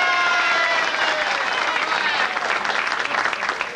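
A bowling alley crowd applauds a winner at a blackjack bowling event, loud dense clapping with a few cheers mixed in, sustained throughout.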